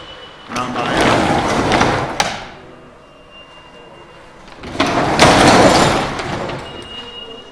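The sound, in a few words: trailer door being closed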